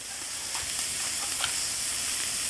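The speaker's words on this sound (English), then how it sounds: "they flame up because all that grease is going to drip down on them coals" Hot sausage burgers sizzling over a charcoal grill, grease dripping onto the coals, a steady faint hiss with small pops and crackles throughout.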